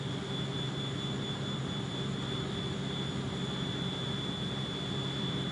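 Fokker 27 turboprop airliner engines on a night landing approach, a steady loud drone with a constant high whine, continuous and close throughout.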